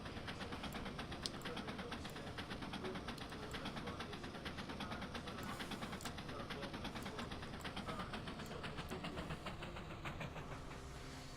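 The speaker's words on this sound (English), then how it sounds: "Here we go, there's the train ride." A small ride-on amusement train runs steadily throughout, with a continuous rolling rumble, faint clicking and light mechanical hum at moderate distance, and no clear talk over it.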